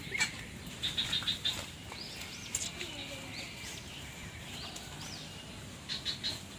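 A bird's wings flap in short fluttering bursts as it takes off outdoors, faint and somewhat distant, with a few chirps and soft background noise.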